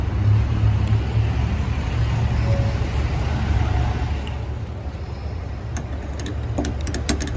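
A car idles or runs steadily at a gas station in snowy weather, a low constant engine rumble with faint ticking clicks toward the end.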